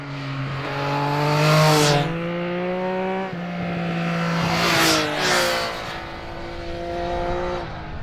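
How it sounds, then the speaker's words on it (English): A 2025 Triumph Speed Triple 1200 RS three-cylinder motorcycle engine revs up twice, its smooth, purring tone climbing in pitch and then easing off. The sound is loud and close, with no voices. "It's so nice, it's so distinctive. You know, that triple sort of purr."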